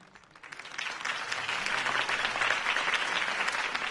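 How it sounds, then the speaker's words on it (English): Audience applause swells after a campaign speech in a film, a dense wash of many clapping hands that starts thin and builds within half a second, then holds steady and full with no voices on top. "If only Mr. Wayne, my campaign's largest backer, could have heard that applause"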